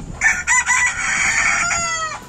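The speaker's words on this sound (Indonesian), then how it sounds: "inilah bos ayam-ayam kampung unggul Elba" Elba native village chickens crowing and clucking up close, a loud drawn-out crow following a few short clucks, heard alone.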